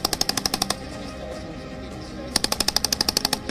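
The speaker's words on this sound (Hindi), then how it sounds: "टैंक के साथ स्वदेशी गन भी कवर देती नजर आई।" Rapid automatic gunfire from an India-Australia joint military exercise alongside tanks and Indian-made guns, two bursts of sharp evenly spaced shots around a long stretch of low rumbling background.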